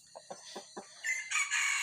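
A rooster at dawn gives a few short clucks, then a loud, drawn-out crow close by, with no talking over it.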